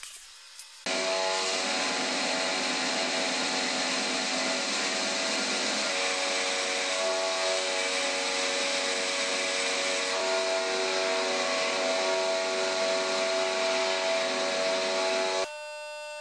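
New angle grinder grinding welds flat on homemade steel F-clamps, one continuous loud high whine held for about fifteen seconds with a steady pitch, starting and stopping abruptly.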